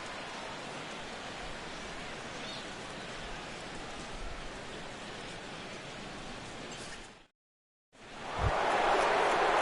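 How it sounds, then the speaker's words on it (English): Rain falls on a ballpark during a Dodgers–Cubs game in MLB The Show 16, a steady hiss of pouring rain that cuts briefly to silence and then returns, a little louder. "the rain continues to fall here"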